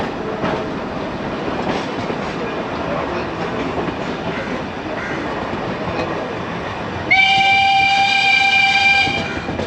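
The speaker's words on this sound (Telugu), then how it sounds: "ఏదో చిన్నప్పుడు సినిమాల్లో వినుంటాం ట్రైన్ సౌండ్స్ ఇలాగా" The Ooty toy train from Mettupalayam rumbles along steadily with clattering wheels, then a loud, sustained horn blares near the end, sounding close and dominant.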